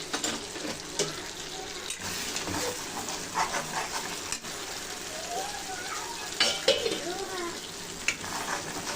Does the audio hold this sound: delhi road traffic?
no